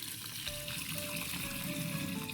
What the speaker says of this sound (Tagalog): Lagyan natin yung pinagkuluan ng manok.